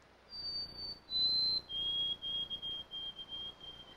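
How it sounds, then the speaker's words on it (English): A white-throated sparrow sings a clear pure whistle in mixed or pine forest, a few sustained notes stepping lower in pitch, the last drawn out in short repeated pulses, alone against quiet background. "The white-throated sparrow's pure whistle resonates from edges and openings in mixed and pine forests"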